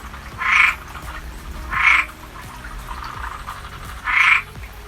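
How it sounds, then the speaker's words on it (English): Three short, harsh croaking calls from a Cuban tree frog, evenly spaced over a steady background of night noise at Anastasia State Park. "Listen to this example of a Cuban tree frog call."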